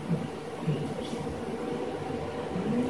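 A GTA San Andreas train idles and rumbles, a continuous low mechanical drone with faint rattling, steady and fairly near, with soft muffled voices briefly in the background.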